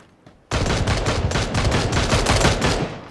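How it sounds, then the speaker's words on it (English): Rapid automatic gunfire in a Counter-Strike or PUBG match, a loud, dense string of shots starting abruptly and running without pause, close up with no voices over it. "From where is he shooting? He's shooting."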